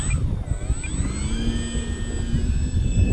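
An E-flite Maule electric RC airplane takes off with flaps down, its motor giving a loud, close, whining drone with pitch sweeping up and shifting as it speeds up and climbs.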